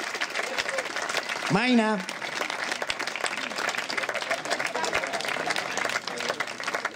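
Loud, sustained applause from a crowd greeting a volleyball team at its season presentation in Latina, with a voice briefly calling out a name partway through over the clapping.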